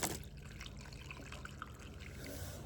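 Water trickling and splashing steadily onto potted succulent plants as they are watered outdoors, a soft continuous pour with faint drips, no talking.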